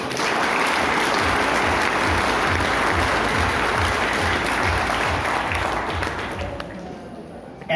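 A live audience at a performance claps loudly and continuously, a thick steady roar of hands that fades slightly toward the end, with faint voices mixed in.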